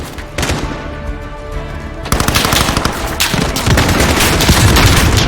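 Gunfire in the video game Call of Duty Modern Warfare: rapid machine-gun bursts roll into heavier, near-continuous automatic fire with booming impacts, loud and close throughout.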